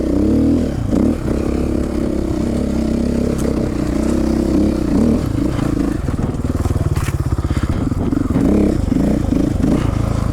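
A KTM 450 Six Days dirt bike rides off-road, its engine droning loud and close throughout with throttle swells and rattling clatter from the terrain, no voices over it.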